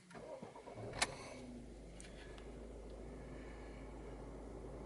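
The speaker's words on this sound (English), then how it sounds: "I'll just start the engine." A 2016 Ford Focus 1.5 TDCi Zetec Estate diesel cranks briefly and fires up, then settles into a steady, quiet, low idle heard from inside the car, with no talking.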